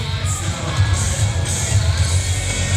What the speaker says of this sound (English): The crowd's going to roar, baby.